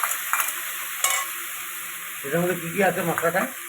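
Koi fish with winter cauliflower, cumin, chili and coriander paste, turmeric, salt and tomato sautéing in a pan, a soft steady sizzle with clinks of stirring and louder scraping bursts near the end.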